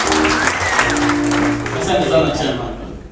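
A crowd claps for Karangũ wa Muraya at a gathering, a fairly loud burst of applause mixed with voices and tonal sounds over it.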